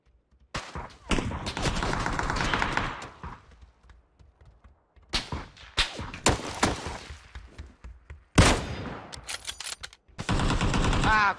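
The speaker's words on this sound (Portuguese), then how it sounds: "Ele tava atirando alguém na direita, Thug." Rapid automatic gunfire in the battle royale game PUBG, several loud bursts separated by brief pauses, the final burst sustained and close.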